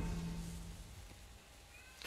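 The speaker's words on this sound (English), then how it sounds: "I'm sorry if you hear that howling. That's the cat upstairs just going bonkers." A cat howls and yowls upstairs, going wild. The faint, brief cries sound distant, muffled by the room.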